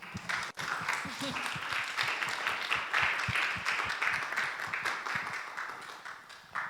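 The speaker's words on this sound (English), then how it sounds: "an applause for Nevenka first" Audience applause at an international symposium honoring Nevenka, a steady wash of many hands clapping at moderate volume with voices murmuring underneath throughout.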